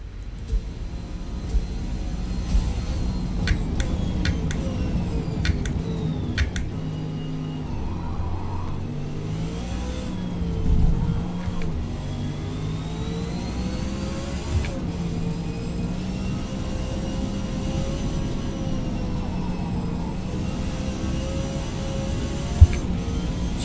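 A race car engine in Forza Motorsport drones steadily with rising and falling revs through the gears, a continuous whining note running near and fairly loud with almost no talking over it.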